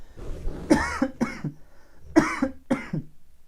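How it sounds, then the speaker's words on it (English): Four harsh coughs in two pairs from a room with a heater running, loud and close, with brief pauses between them and no talking. "I'm starting to cough because I have the heater on."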